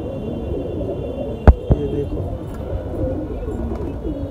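Soft cooing from a flock of about forty kasni patet pigeons murmurs continuously in the background, with a couple of sharp knocks partway through and a faint steady hum.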